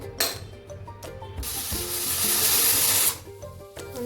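A pressure cooker on the stove releases a loud, sustained hiss of venting steam for about two seconds while veg biryani cooks, with quieter kitchen clatter before and after.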